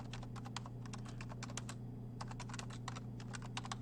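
Quick bursts of clicky typing on a computer keyboard, several clustered keystroke runs separated by short pauses, close and clear over a steady low electrical hum.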